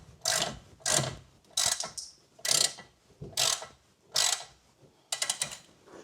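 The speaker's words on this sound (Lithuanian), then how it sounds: "Gerai, vieną varžtą atsileidau." A ratchet wrench works a bolt loose in rhythmic bursts of clicking, about seven close, loud strokes with short pauses between them, and no voices.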